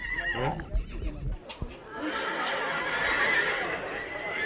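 A Comtois draft horse at a 1990 horse show gives a clear neigh at the start, followed by a broad, busy outdoor hum of the show grounds.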